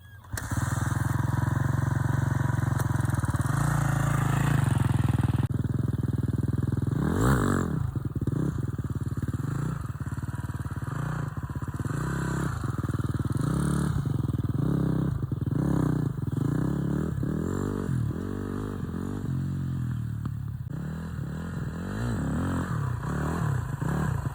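A KTM 250 dirt bike that needs a valve adjustment runs loud and close, its buzzy two-stroke-style drone revving up and falling back repeatedly with rattly clatter throughout.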